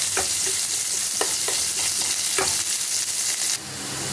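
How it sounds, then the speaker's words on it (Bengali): Chopped onions fry in hot oil with black cumin seeds, a steady loud sizzle broken by several sharp stirring scrapes, the hiss dropping slightly near the end. "এবার দেবো পেঁয়াজ কুচানো দিলাম। পেঁয়াজগুলো লাল লাল করে ভেজে নেব।"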